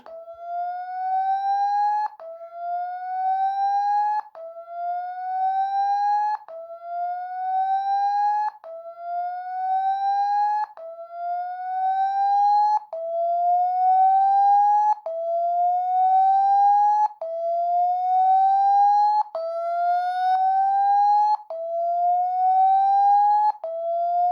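A Xiaomi Redmi Note 10S phone's speaker-cleaning tone at full volume: a loud electronic tone sweeps upward again and again in a steady repeating cycle, each sweep lasting about two seconds, with no voices.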